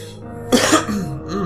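A close, harsh cough bursts out once or twice in quick succession, followed by a brief throaty vocal sound.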